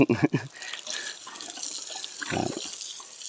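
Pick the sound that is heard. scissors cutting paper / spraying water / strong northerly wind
spraying water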